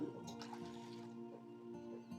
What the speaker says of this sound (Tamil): தண்ணி ஊற்றி ஒரு மூணு டைம் அலசி எடுத்துக்குவோம்